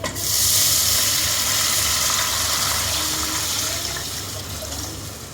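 Water pours into a hot pan for semolina upma, hissing and sizzling steadily at close range, loud at first and then slowly fading as the boil settles.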